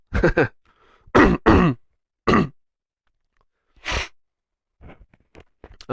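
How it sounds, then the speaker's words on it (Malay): Several people clear their throats in short bursts, with a few brief pauses and a murmur between them. "Dehem-dehem dulu."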